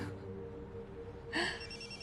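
A telephone bell rings once, short and fairly clear, breaking into a quiet room after a brief hush.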